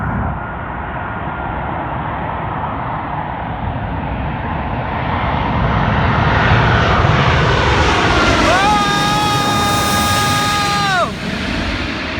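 A loud aircraft engine roars close overhead at Manchester Airport runway, its pitch bending as it passes, with broadband rumble and voices underneath.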